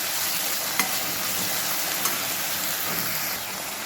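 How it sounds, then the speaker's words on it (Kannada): Onion and tomato frying in a spiced tempering for a taro-stem gojju, a steady dense sizzle with a few sharp clinks of a stirring spoon against the pan, close and alone without voices. "ಚೆನ್ನಾಗಿ ಮಿಕ್ಸ್ ಮಾಡುವ. ಒಗ್ಗರಣೆಯಲ್ಲಿ ಬೇಯಬೇಕು."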